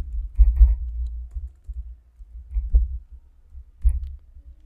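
Keys tapped on a computer keyboard in a few short bursts of muffled, low thumping clicks separated by pauses, close by with no voices.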